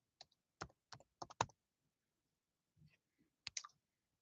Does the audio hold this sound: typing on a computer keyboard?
yes